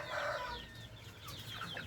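A fighting rooster clucks in short rough bursts nearby, fairly faint against a quiet background, with no talking.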